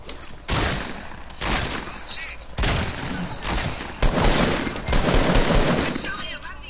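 Fortnite shotgun and rifle fire arrives in several loud bursts of rapid shots separated by brief pauses, close and harsh, with a voice talking faintly underneath.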